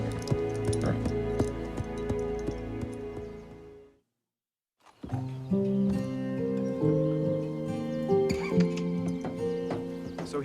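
A horse neighs and whinnies close by with strong, ringing calls, then a second stretch of whinnying follows a brief silent gap.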